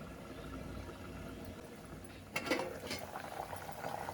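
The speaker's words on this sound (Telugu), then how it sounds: "మూత పెట్టుకొని ఒక 5 నిమిషాలు ఉడికించుకోవాలి." Bommidala fish curry (pulusu) simmering in a covered pot on a stove, a steady soft bubbling that grows louder with sharper pops and gurgles in the second half.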